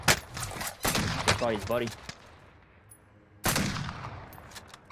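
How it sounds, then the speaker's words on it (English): Sniper gunfire in the video game Call of Duty Warzone: a sharp shot at the start and another loud crack a few seconds later, with a player talking between them. "I'm getting sniped from down here."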